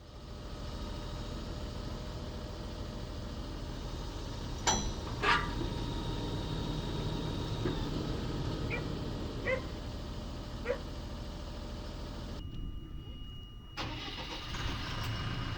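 A farm tractor engine runs at speed with a constant low mechanical drone, fairly faint, while a few sharp knocks and a dog's barks break through.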